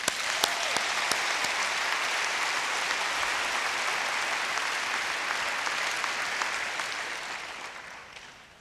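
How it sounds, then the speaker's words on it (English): Sustained applause from a large audience at a school district convocation, a dense steady clatter of many hands that fills the room at a strong level and fades gradually toward the end. "give yourself an applause right now."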